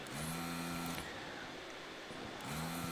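A desoldering station's vacuum pump runs in steady hums as it sucks lead-free solder off a circuit board, with two bursts of motor drone separated by a short pause.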